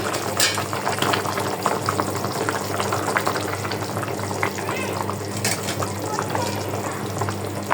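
A fish curry simmers in a covered pan with a steady, close bubbling sizzle that runs on without pause, with a few soft stirring clinks over the boil.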